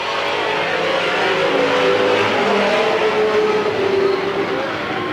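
Late model sportsman race cars roar away on a restart at Midvale Speedway, a loud, dense, continuous engine drone that holds steady throughout.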